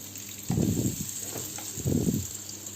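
Potato croquettes frying in a pan make two soft bursts of sizzling and crackling over a faint steady background hiss.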